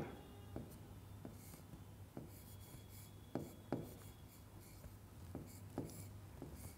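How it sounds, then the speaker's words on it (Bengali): A pen writing a word on paper, faint close scratchy strokes in short bursts with brief pauses between them. "তাহলে চলো আমরা পরিষ্কার শব্দটি লিখি"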